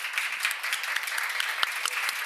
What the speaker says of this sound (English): give a nice warm round of applause to our lovely panelists today